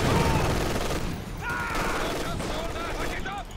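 Machine-gun bursts in Company of Heroes 2 rattle in a dense volley that thins out as someone talks over the fading fire.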